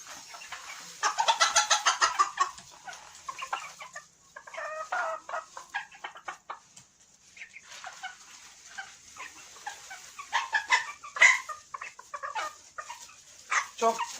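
Ispenç chickens cluck and cackle in repeated bursts, near and fairly loud, with a faint dog bark mixed in among the birds.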